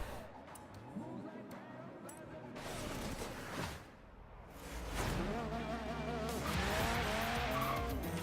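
A 1974 Toyota Corolla rally car launches off the line in a Forza Horizon 3 race, engine roaring loud and close with tire squeal and skidding alongside other cars, under a voice talking.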